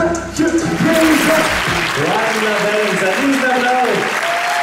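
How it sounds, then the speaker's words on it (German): Crowd applause at a theater concert in Augsburg, broad clapping noise running throughout while a voice sings or speaks clearly over it with gliding tones. "Applaus."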